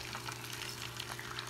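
Guava paste and cheese empanadas fry in hot oil, giving a steady, dense sizzle with crackling pops that holds at an even level throughout. No one speaks.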